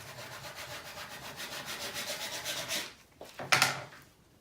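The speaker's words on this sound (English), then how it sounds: "so we're going to give it a little rub" A paper stencil laid on wood is rubbed down by hand with quick back-and-forth strokes, making a steady rhythmic scratchy rasp. A couple of sharper scuffs follow as the rubbing stops, all up close with no speech.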